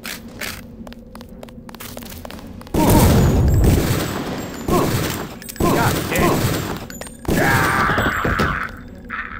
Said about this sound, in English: I hate shooting anything this early in the game